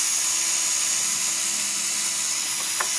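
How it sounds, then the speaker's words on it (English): A drill with a 1/16 inch bit drills straight through plastic irrigation tubing for a garden watering system, giving a steady, close, high-pitched whine throughout with no talking. "all I do now is just drill straight through it"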